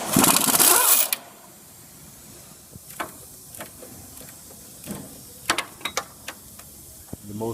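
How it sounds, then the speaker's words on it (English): Removing bolts and nuts from the engine mounts of a Ford 6.0 Powerstroke, a brief spray hiss at the start followed by scattered metallic clicks and ratchet ticks, close up and fairly quiet. "Spray the exposed threads and remove the lower bolts,"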